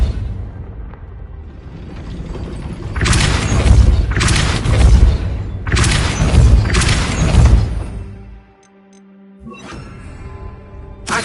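Repeated heavy magical blasts from the Confringo fire spell in the Hogwarts Legacy video game, two loud booming pairs of explosions with rumbling tails, followed by a quieter lull and a final smaller burst.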